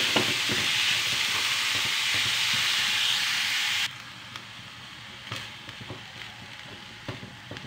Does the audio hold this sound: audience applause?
no